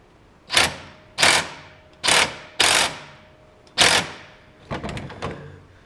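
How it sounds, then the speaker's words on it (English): An impact wrench rattling an engine mount bolt tight on a Toyota Matrix, six short loud bursts spaced about a second apart, the last ones choppier, close with a quiet garage background and no talk. "Get the impact up here just to speed it up a bit for it"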